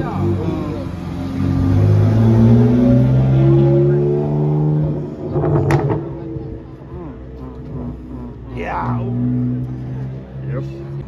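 A stage 5 tuned car at a skidpan revs hard and close, its engine climbing and surging through rising tones, then dropping back to a rough, burbling idle with brief sharper bursts near the end.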